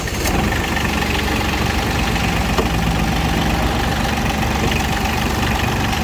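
A small three-cylinder Mitsubishi MT135 mini tractor engine idles steadily up close, a continuous low rumble with a faint rhythmic knock and no voices.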